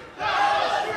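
A wrestling crowd at a women's wrestling show roars in reaction to a near-fall, the swell of cheering rising quickly and holding loud for a moment.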